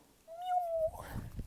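A cat meows once in a small Spanish village, a clear, fairly close rising-and-falling call, followed by faint rustling background noise.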